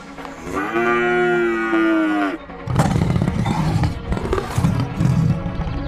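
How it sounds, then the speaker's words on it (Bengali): A cow lets out a long, loud moo, then a noisier stretch of lowing and bellowing from three tethered cattle follows close by, in a cartoon. "বাঁধা গরুগুলো বাঘটাকে দেখে ভয়ে জোরে জোরে ডাকতে থাকে।"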